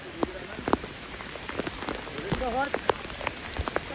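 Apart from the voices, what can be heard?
heavy monsoon rain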